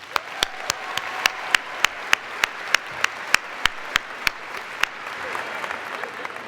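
Applause at a college of public health graduation ceremony, with a crowd clapping steadily throughout and sharp individual claps standing out in a regular rhythm, moderately loud and without speech.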